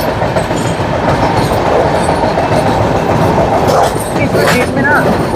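Coromandel Express rolling across the long road-cum-rail Godavari bridge in India, a steady loud rumble of wheels and carriages with faint clickety-clack, continuous and close throughout.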